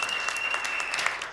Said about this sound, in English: Give him another round of applause, ladies and gentlemen.